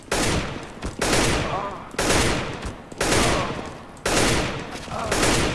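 Short controlled bursts of rifle fire in the CS:GO video game, five loud rapid volleys spaced about a second apart, each trailing off briefly before the next, with no talk over them.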